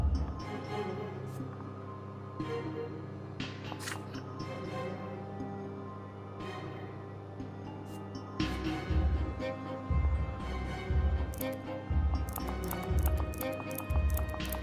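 Noble horses charging at a gallop in The Life and Suffering of Sir Brante, a rhythmic clatter of hooves that grows louder and heavier in the second half, with speech over the top.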